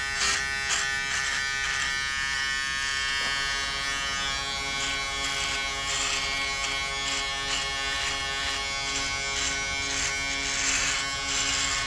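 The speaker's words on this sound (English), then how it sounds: "How do you like your new shaver?" An electric shaver buzzes steadily against the side of a face, a continuous close-up whine running the whole time with small shifts as it moves across the skin.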